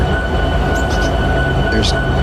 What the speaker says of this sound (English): So below is CSX 3164, heading to SouthLine Diamond to pick up cars from SouthLine Yard whenever I get a clear